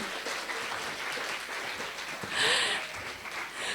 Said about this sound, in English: How about another round of applause to Dr. Nalini?